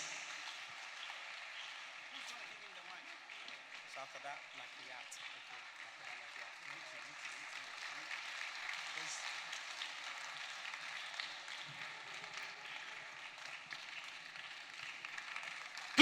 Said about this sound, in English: a round of applause for Mr. Godwin Avenogbo as he gives us the keynote address